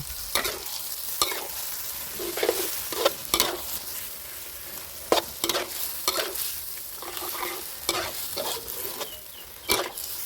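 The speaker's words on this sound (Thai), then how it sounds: "พอเริ่มจับตัวแล้วก็ ผสม ผัดรวมกับเนื้อหมูได้เลยนะครับผม" A spatula repeatedly scrapes and clacks against a pan over steady sizzling, as egg and pork are stir-fried up close in an irregular rhythm.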